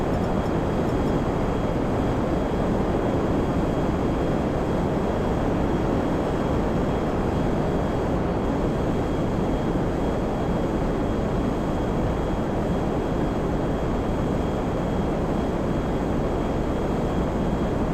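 A plane in GTA Online flies with a steady, dense roar of engine and rushing wind that holds at an even level throughout, with no voices over it.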